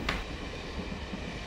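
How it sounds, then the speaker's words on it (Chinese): A train passes in the distance beside mountain countryside, a steady low rumble and clatter under broad background noise, with a brief brighter burst near the start. "有听火车的声音。"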